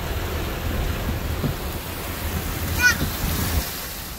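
Heavy rain pours over Jizan city, a dense steady hiss and low rumble filling the whole stretch, close and loud, with a faint chirp-like sound briefly above it.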